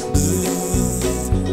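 In a nursery song about a yellow bumblebee on a farm, a voice imitates a bee's buzz with sustained buzzing tones set against a rhythmic musical backing.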